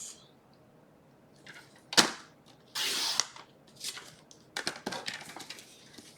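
A paper trimmer cutting a strip of designer series paper to 2 inches, with sharp snapping cuts, a short swishing slide of the blade and scattered taps as the paper is handled, all close and fairly quiet.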